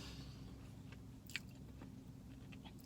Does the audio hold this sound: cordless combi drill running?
no